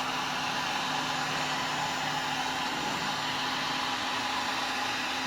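Hot air tool blowing on a computer processor during circuit board salvage, a steady, loud, even whoosh of air with a constant low hum, unbroken throughout and with no talking.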